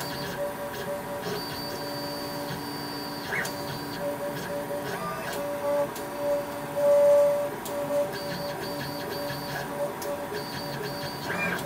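A laser cutter at work during its first cuts, with a steady mechanical whir, whining stepper-motor tones and small clicks as the head moves, and a brief louder swell of air partway through.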